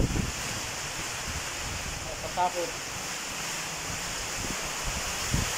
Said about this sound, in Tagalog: ang hangin dumarating, nakala mo ay ipo-ipo